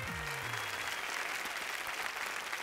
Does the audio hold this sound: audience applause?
yes